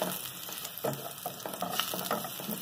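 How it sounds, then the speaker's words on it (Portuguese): Garlic fries golden in oil with a bay leaf in the pan, a steady close sizzle broken by soft scraping stirs. "Vamos dourar o nosso alho."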